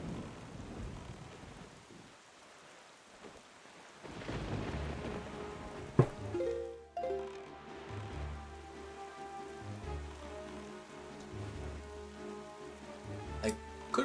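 A storm at sea in The Legend of Zelda: The Wind Waker HD, with steady heavy rain hissing throughout and a sudden thunder crack followed by low rumbling that rolls on beneath the downpour.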